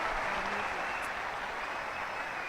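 Quiet, distant applause from an audience forms a soft, even patter of clapping that holds steady throughout without any pauses.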